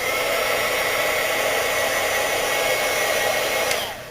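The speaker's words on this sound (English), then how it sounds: "I always let my heat gun heat up off to the side." A heat gun for polymer clay and embossing powder work blows a steady, loud, continuous rush of hot air close by, holding even throughout before dropping off slightly at the very end.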